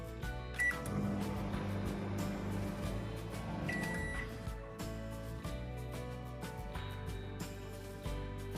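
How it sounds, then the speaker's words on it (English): A microwave oven runs steadily while heating salted field beans in water, a continuous hum with a low-pitched drone filling the whole stretch, joined by a couple of faint high electronic tones near the start and middle. "and then I'll put it in the microwave"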